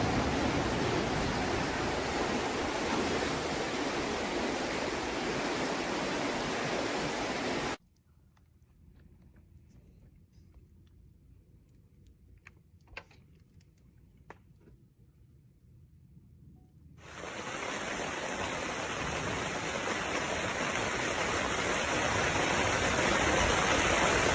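Forest river rushes with loud, steady broadband flow, then cuts away to near silence with a few faint clicks before the flowing water returns just as loud.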